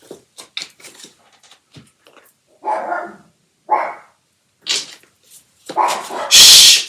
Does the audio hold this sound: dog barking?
yes